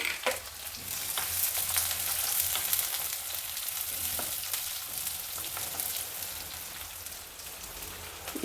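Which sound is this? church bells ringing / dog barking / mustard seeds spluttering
mustard seeds spluttering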